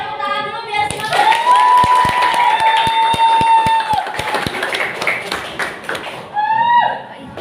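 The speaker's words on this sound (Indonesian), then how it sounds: "Kasih tepuk tangan dulu biar semangat." Brief applause in a classroom, a handful of sharp claps rising under a sustained tone and background music, with a voice heard briefly.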